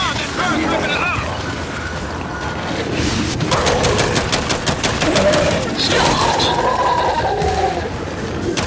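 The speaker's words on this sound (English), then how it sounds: "that turret's ripping it up!" Turret in Gears 5 firing sustained, loud, rapid automatic bursts amid explosions and mechanical clatter, with voices talking over the gunfire.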